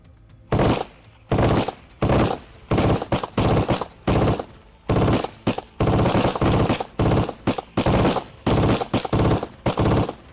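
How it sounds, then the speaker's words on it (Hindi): Indian Army medium machine gun, AK-47 and INSAS rifle fire at the Line of Control, loud repeated bursts of automatic gunfire in quick succession with short pauses between volleys. "इस डिटैचमेंट में MMG थी यहाँ पे, AK-47 का फायर और इंसास का फायर यहाँ पे हुआ है राइफल का"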